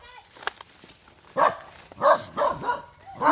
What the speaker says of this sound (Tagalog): Mahabol ako ng aso.